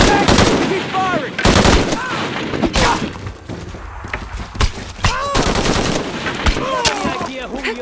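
Dense, loud automatic gunfire crackles throughout a firefight in Shadow of the Tomb Raider, rapid overlapping bursts interleaved with sharp single shots and shouted voices mixed in.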